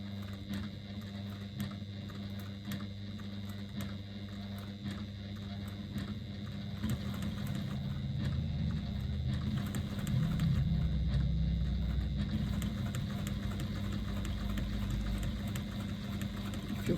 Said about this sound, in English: we're just going to stitch all the way around the outside, take it slowly, and you're going to stay 1/8 of an inch away from the outside edge